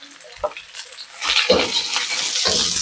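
Onions sautéing in a pan for palabok, a steady sizzle that rises and holds loud, with a few stirring scrapes and utensil knocks near the start.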